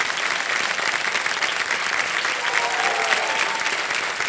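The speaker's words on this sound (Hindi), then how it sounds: "तो ये जीती हुई तरफ तालियां बजाएं इनके लिए।" Studio audience of a Hindi TV quiz show (Kaun Banega Crorepati) claps steadily for a winning contestant, a dense, even wash of applause throughout with a faint tonal line under it and no talking.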